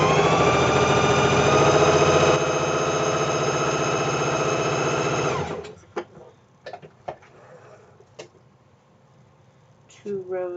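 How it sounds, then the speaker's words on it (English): Sewing machine stitching fabric while making a Mini Marcel garment, a loud steady whirring hum for about five seconds that winds down, followed by scattered clicks and handling noises and quiet talk. "So we will go back to sewing here."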